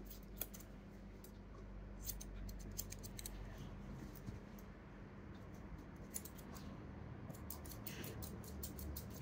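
Scissors trimming the eyebrow fur near a dog's face, quiet close snips in small clusters with pauses between them against a low room hum.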